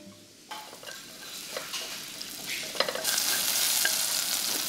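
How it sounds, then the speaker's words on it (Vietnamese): Shallots and garlic fry in oil in a pot, a steady sizzle with crackling pops that swells louder midway and stays bright and close, with no voices. "Phi hành tỏi cho thơm."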